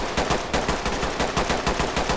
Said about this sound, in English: there's at least two guys in here shooting at me